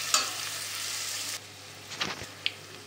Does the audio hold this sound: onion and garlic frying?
yes